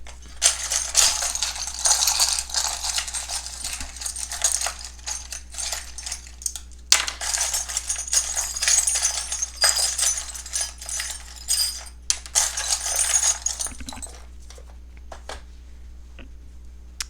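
Small rune stones rattle and clatter continuously as they are shuffled by hand, close and fairly loud, with brief pauses and a low steady hum underneath.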